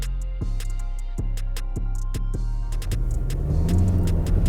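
A 2021 Jaguar E-Pace SUV pulls away from traffic lights, starting with a low idling hum with rhythmic clicks, then the engine note swells and rises into a broader, louder acceleration roar from inside the cabin.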